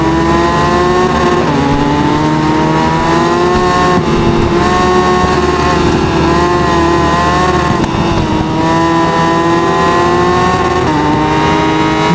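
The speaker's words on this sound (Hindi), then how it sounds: "क्या भगा रखी है भाई मैंने हायाबुसा को।" A 2024 Suzuki Hayabusa motorcycle races at high speed alongside other engines, a loud continuous drone of revving engines with pitch shifting slightly up and down throughout, no speech heard.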